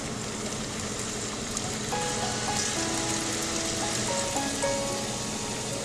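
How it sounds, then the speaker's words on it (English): Stuffed kadabu, sweet dumplings, fry in hot oil with a steady dense crackling sizzle that carries on unbroken and fairly close, with no talking. "Stuffed kadabu are ready to fry in hot oil. Oil is hot. fry the kadabu."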